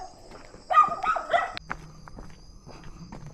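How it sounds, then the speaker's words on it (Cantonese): Several dogs bark in quick bursts from a nearby farm, loud at first then trailing into scattered yips, while hiking footsteps crunch along a riverside trail underneath. "隔離唔知係咪農莊，好多狗。"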